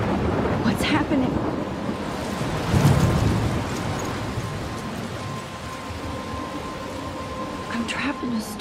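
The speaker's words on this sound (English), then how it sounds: "I'm trapped in a storm?" Thunder rumbles through a heavy storm in the video game Life Is Strange, with steady rain and gusting wind throughout and one loud crack of thunder near the middle. No one speaks.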